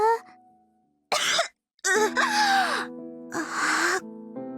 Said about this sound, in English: Sachi immediately launched into a coughing fit after she sat herself upright.